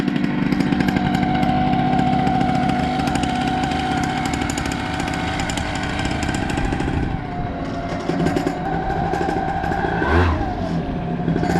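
A converted Atom 80 minibike engine runs loud and close, a raspy buzzing idle and revs that hold steady and then rise near the end.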